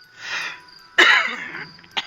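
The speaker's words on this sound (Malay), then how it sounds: "Mana pula datangnya bunyi berdehem yang saya dengar sebentar tadi?" A man clears his throat as a story sound effect, a breathy rasp followed by a louder harsh rasping burst and a short final catch, close and alone.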